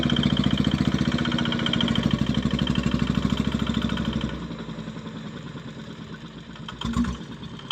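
Heavy-load truck built with a two-speed gearbox, its engine chugging in a loud rhythmic idle pulse before revving and pulling away, the beat loosening and fading as it moves off.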